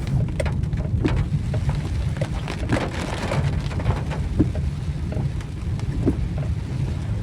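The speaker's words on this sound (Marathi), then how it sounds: "पाऊस आलेला आहे" Steady, dense rush of heavy monsoon rain pattering on surfaces in a forested hill area near Tansa Dam, loud and continuous, with a low rumbling undertone throughout.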